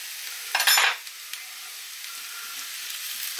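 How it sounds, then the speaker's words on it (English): A spoon stirs Marmite into cooking potatoes in a pan, giving one short loud scraping, sizzling burst followed by a faint low sizzle with no talking. "And I'll start to stir that in."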